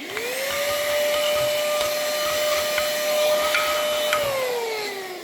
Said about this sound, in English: I have my handy little hoover on hand